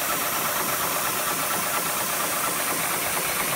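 A 5-inch gauge Metro steam locomotive runs at 60 psi on a rolling road, giving a steady, dense, loud mechanical roar with a fast continuous churn and no pauses.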